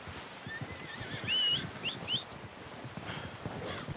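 A horse in Red Dead Redemption 2 whinnies in a short high-pitched burst, followed by a couple of briefer neighs, over soft hoof clopping and quiet background ambience.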